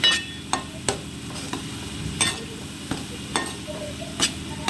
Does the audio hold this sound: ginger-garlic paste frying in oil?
yes